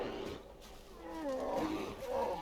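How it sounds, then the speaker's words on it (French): Two bears fight in the video game Far Cry Primal, giving deep, rumbling roars and growls that swell and fade, moderately distant and rather faint. "Il y a deux ours qui se battent."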